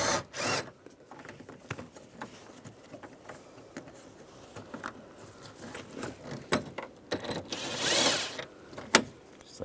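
A 10mm socket works a bolt loose from underneath the parking brake release of a 2007-2013 Chevrolet Silverado, giving intermittent close ratcheting clicks, rubs and scrapes with brief quiet gaps.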